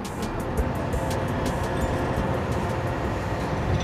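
An InterCity 125 high-speed diesel train rushing past at speed, a steady broad roar of engine and rail noise holding evenly throughout, close and loud with no voices.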